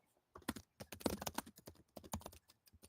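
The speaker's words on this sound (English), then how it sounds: "Oh, really loud ass keyboard." Loud computer keyboard typing, a quick irregular burst of sharp clacking keystrokes up close, with short pauses between flurries and no talking.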